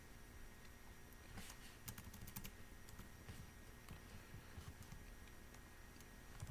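Quiet clicking on a computer keyboard as text is typed into a search filter box, with irregular light keystrokes and short bursts of taps over a faint room hum, close and soft, with no talk.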